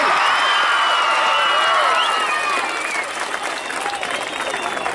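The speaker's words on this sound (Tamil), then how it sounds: "இவ்வளவு கைத்தட்டி பத்தாது." An audience at a road safety awareness exhibition in Dharmapuri breaks into loud, dense applause with cheering and whoops, strongest at first and easing slightly toward the end while voices carry through the crowd.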